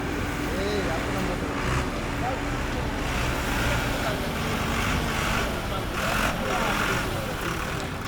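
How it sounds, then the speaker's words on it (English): A tractor engine drones steadily under heavy wind buffeting, with someone talking over it. "Eventually the tractor catches up with us after being left behind for some time."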